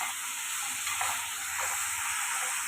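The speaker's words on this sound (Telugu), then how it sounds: "అండ్ ఉప్పు వేసాక ఒకసారి మా మమ్మీ బాగా మిక్స్ చేసేస్తుంది దాన్ని" Onions with salt frying in a pan for egg curry, stirred and mixed, giving a constant close hiss of frying oil with soft scraping, no speech.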